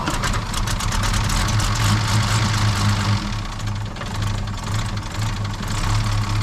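A classic Rover P4 car engine idling on flushing oil, a steady, loud, continuous running note with an even rhythmic pulse and no voices.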